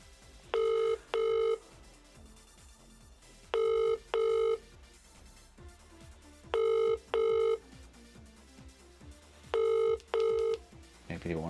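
A telephone ringing tone repeats four times, each a double ring with pauses between, clear and steady against faint background noise.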